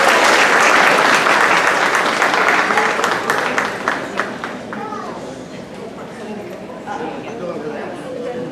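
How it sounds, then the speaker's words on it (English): A crowd at a school student recognition event breaks into loud applause that gradually thins to scattered claps, with chatter and voices rising underneath as it fades. "Let's give Haley a round of applause."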